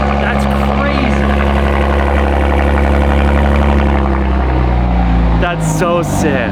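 Loud, deep burble of a BMW G87 M2 inline-six idling through a full titanium equal-length exhaust, steady and close, with the pitch dropping slightly as revs settle near the end.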